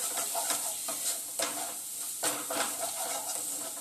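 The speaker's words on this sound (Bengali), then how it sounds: "এবার খুব ভালো করে মশলাটা কিন্তু কষিয়ে নেব" Spice masala with turmeric, salt and Kashmiri chili frying for a chicken dish over medium-high heat, a steady close sizzle broken by repeated scraping stirs of the spoon through the paste.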